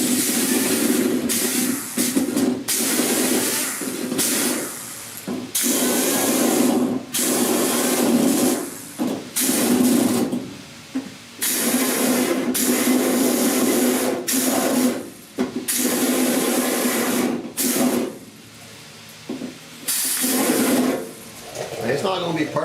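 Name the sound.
die grinder cutting weld-through primer on a 1969 Chevy C10 cowl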